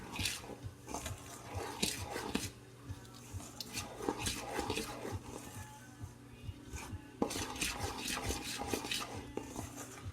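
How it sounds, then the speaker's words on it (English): Suet pudding batter being mixed in a bowl, with wet ingredients worked into dry, making repeated scraping and knocking of a utensil against the bowl, fairly close and steady with occasional louder taps. "Mix everything up."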